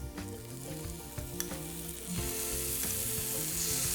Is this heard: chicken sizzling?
yes